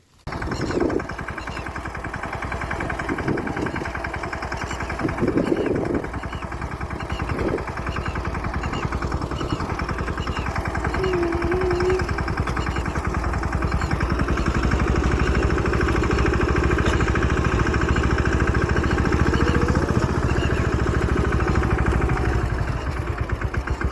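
A tractor engine runs steadily while powering a rotavator on a farm, a loud continuous mid-pitched drone with a constant rumble that holds from start to finish, with a few brief knocks early on.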